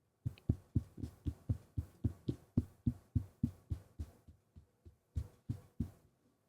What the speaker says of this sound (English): Now I'm going to tap on my desk.